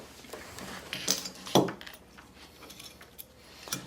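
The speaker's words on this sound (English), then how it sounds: "Try not to drop your Allen keys." Metal Allen keys clink and rattle while an Empire Axe paintball marker is taken apart, giving a few sharp, close metallic taps and one louder clack among quiet handling noises.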